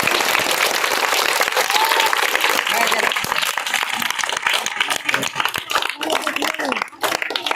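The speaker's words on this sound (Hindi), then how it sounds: "बजाओ ताली जोर से, ताली बजा दो" A crowd at a village street magician's show claps loudly and continuously, dense close applause filling the whole stretch, with voices underneath.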